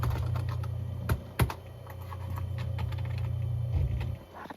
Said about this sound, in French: il faut que je fasse au clavier